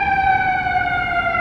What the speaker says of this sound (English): It's going through there, the ambulance.